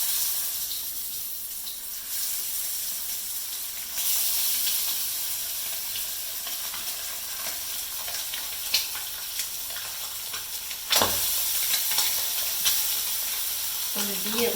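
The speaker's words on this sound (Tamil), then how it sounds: "எண்ணெய் நல்லா காஞ்சிட்டு முட்டையை பொரிச்சு எடுக்கலாம்." Whole eggs, scored all around, fry in hot oil for an egg masala, giving a steady close hiss and bubbling sizzle that swells in bursts, with a few clinks and splashes.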